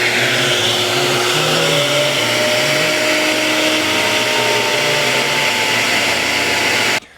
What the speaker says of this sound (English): Let's get this neck run across the router table so we can start actually seeing what this thing's going to look like.